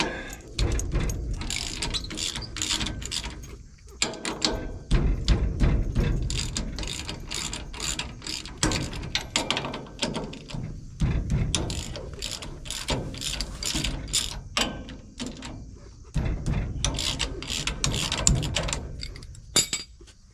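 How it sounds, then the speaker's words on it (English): A hand ratchet works loose the bolts on an Oliver 7300 tractor's variable speed drive, its close metallic clicking running in fast bursts with short pauses between, alone without talk. "And we undo these bolts."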